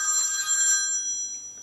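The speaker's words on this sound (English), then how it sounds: "I'm sorry, that's my phone." A mobile phone rings with a bright, bell-like electronic tone, one short ring that fades quickly in a quiet room.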